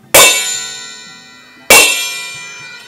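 A thin brass kecer cymbal from Yogyakarta soldier gamelan music is struck twice, each bright metallic clang ringing out loud and close before slowly fading.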